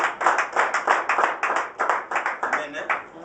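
A church congregation claps in a rapid, roughly steady rhythm of close, sharp hand claps lasting several seconds.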